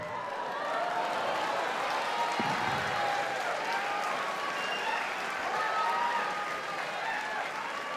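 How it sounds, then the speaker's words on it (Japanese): A crowd at a DEEP mixed martial arts event applauding fighter Masaki Kajiwara after his knockout win, a dense, sustained wash of clapping across a large hall, steady throughout, with an announcer's voice faintly layered in. "改めて梶原雅紀選手に盛大な拍手を"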